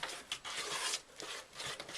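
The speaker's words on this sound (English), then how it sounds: "You stir it, only stir by hand." Grout is stirred by hand for tiling a shower in a static caravan, giving a faint scraping, rasping rub that comes in short uneven strokes, close and quiet with no talk.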